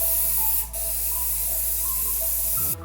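Spray filler hisses onto a 3D printed Toyota 4Runner RC car body in close, loud bursts: a short break near the start, then a long continuous spray that cuts off near the end.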